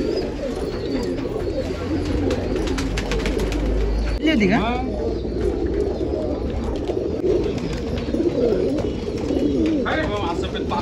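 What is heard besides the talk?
desi pigeons cooing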